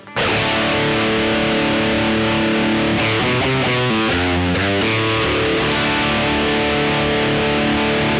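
Heavily distorted electric guitar through a NUX Fireman distortion pedal, voiced like a modded Plexi with extra mids, playing loud, sustained chords and riffs with a thick, saturated tone, continuous throughout with no talking.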